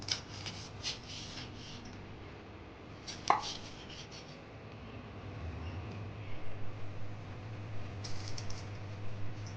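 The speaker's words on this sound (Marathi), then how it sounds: "आता आपल्याला ह्या मिरच्या एकदम अशा पातळ चिरून घ्यायच्या आहेत, बारीक." Green chillies are sliced thin with a knife, a few quick taps near the start followed by a rapid, light chopping rhythm toward the end, close but fairly quiet, with no speech.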